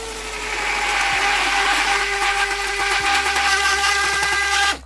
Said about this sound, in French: et maintenant, on mixe.